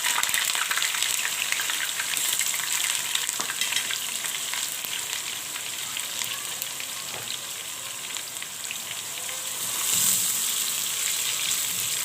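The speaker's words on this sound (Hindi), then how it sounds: "प्याज को हम गोल्डन करेंगे।" Onions frying in a hot pan for palak keema, a dense, continuous crackling sizzle with occasional stirring movements, steady and fairly loud throughout with no talking.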